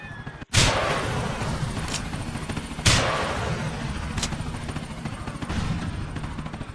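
A helicopter crashing in the video game GTA 4: two sharp booming impacts stand out over a steady roar of rotor and engine noise, with no speech.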